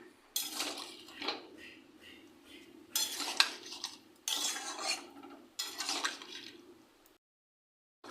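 A spoon scrapes and clanks around a pan as boiled shrimp are stirred into a squash curry, coming in several separate bursts of metallic scraping and wet sloshing, close by and without talk.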